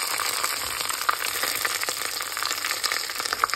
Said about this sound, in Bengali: তো আমি পেঁয়াজ ভাজার মধ্যে দিয়ে দিলাম এলাচি,